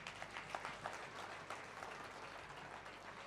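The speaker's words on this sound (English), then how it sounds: "thank all of them with a big round of applause" Faint applause from an audience at a school annual day celebration for pre-primary students, a steady patter of clapping heard from a distance throughout.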